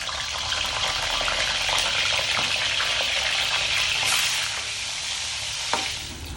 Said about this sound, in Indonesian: Waktunya menggoreng ikan bader.